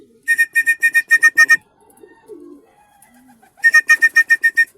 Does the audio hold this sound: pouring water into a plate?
no